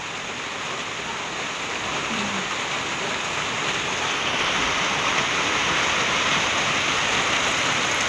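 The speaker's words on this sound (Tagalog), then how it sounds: "Sa sobra pong lakas ng ulan ay ayan po at natulo na po ang aming bubong." Heavy rain pours down steadily in a dense, constant roar during a downpour strong enough to make the roof leak, loud and unbroken throughout, with no talk.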